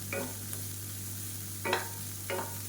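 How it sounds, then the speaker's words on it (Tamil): Mixed vegetables such as raw cabbage, cauliflower and broccoli sautéed in a pan for a healthy diabetic-friendly recipe, with a steady low sizzle and a few short bursts of stirring scrapes, close and fairly quiet. "இது எல்லாத்தையும் நல்லா வதக்கிக்கலாம்."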